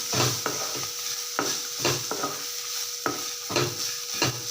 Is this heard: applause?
no